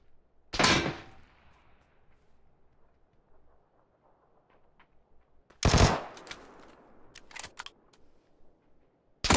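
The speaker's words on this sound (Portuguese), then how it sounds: "tem alguém de sniper atirando" Sniper rifle shots in the video game PUBG: two loud, sharp cracks several seconds apart, the first with a trailing echo, followed by a few fainter clicks and pops in quiet background.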